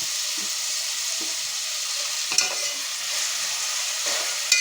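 Sliced onions and green chillies frying in a pan for a potato curry, a steady close hiss of oil with occasional scrapes and clinks as they are stirred.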